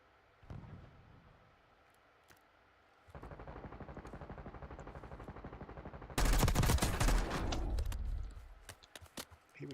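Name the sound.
gunfire in the video game Call of Duty Warzone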